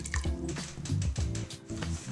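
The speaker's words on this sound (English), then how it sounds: "I'm going to put in 3/4 cup of olive oil, 1/3 cup balsamic vinegar." Olive oil and balsamic vinegar being poured for a steak marinade, a steady close liquid stream with dripping, gurgling pulses and no talk.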